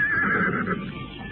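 A horse lets out a loud, close whinny, a single drawn-out neigh that quavers and fades over about a second, heard alone.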